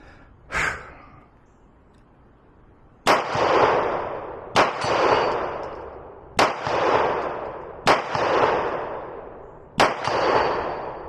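Six loud, sharp pistol shots from a Beretta APX A1 Compact ring out at an outdoor range toward a 50-yard steel plate. They are spaced irregularly, each followed by a rolling echo that fades before the next.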